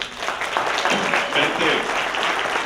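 Steady audience applause fills a conference hall for a young man, a dense, continuous wash of many hands clapping at an even level from start to finish.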